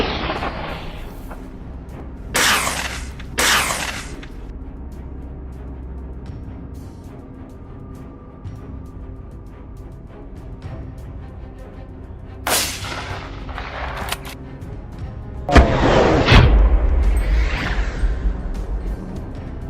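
Gunshots fired while hunting large wild boar in the wild, several sharp loud cracks coming singly and in close pairs, with a heavier, sustained blast near the end over a steady outdoor background.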